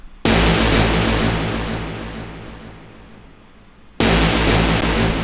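A loud electronic synth drop hits with a dense, bright wall of sound, fades down over a few seconds, then slams back in at full volume.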